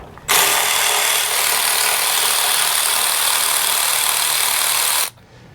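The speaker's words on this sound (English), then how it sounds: "simply take this bolt off on each side" A power tool drives against a bolt on a vehicle's sway bar during a forged chromoly sway bar arm install, giving one loud, steady whirring burst of about five seconds that starts and stops abruptly, with no talking.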